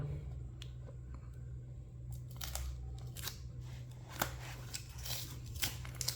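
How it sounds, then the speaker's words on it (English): Scissors snipping and cutting tape on an Apple Watch SE box during an unboxing, a series of quiet, close, crisp cuts and crinkles over a steady low hum, no talking. "we need to remove this tapes and all"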